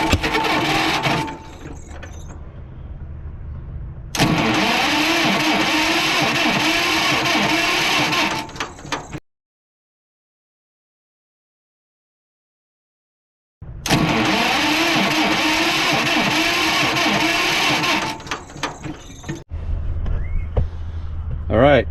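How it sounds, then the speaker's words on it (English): A 1946 John Deere BN tractor engine cranks on its 6-volt starter in two long, steady grinding bursts with a silent pause between them, close and loud, with a voice heard at the start and end. "we're going to push the button and see if it spins the engine or not"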